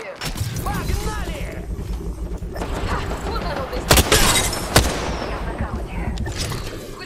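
Gunfire in the Apex Legends battle royale game, a busy mix of bursts and sharp cracks with two loud reports standing out mid-clip, heard over constant game noise and voice chatter.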